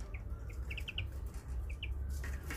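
A tit, a small bird, gives a few quick, high chirps in short clusters while fluttering, over a loud, rumbling outdoor background.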